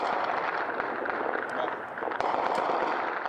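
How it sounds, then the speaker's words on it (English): Distant thuds of fighting in Mosul, muffled booms scattered through a dense, steady outdoor rumble. "Just the thud of fighting in the distance."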